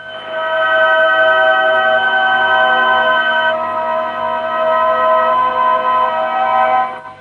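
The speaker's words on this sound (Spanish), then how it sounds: "eso es el sonido de estas figuras pasadas al papel de la partitura." Strange sustained electronic tones built from crop circle shapes transcribed into a musical score, with steady layered harmonic pitches holding evenly for about seven seconds, loud and alone with no talking.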